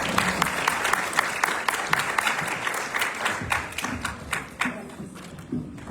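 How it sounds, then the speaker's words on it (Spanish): Applause from a conference audience welcoming a speaker at a lecture on the medical responsibilities of informed consent: a fairly close spread of individual hand claps that are dense at first, then thin and taper off toward the end. "les solicito por favor lo recibamos con un fuerte aplauso"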